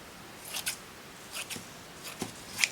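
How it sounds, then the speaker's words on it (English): Quiet, crisp snips of freshly sharpened scissors cutting through thick tulle, a few irregular cuts in a row, close by with no talking. "I sharpened all my scissors the other day."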